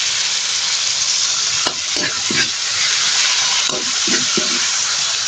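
Whole squid sizzle steadily in a hot pan, a dense continuous frying hiss with a few soft clinks and stirring knocks, no voices.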